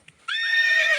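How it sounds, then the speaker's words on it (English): A horse gives a single loud, close neigh, a bright shrill whinny starting abruptly after a brief quiet moment and holding steady to the end. "Horse."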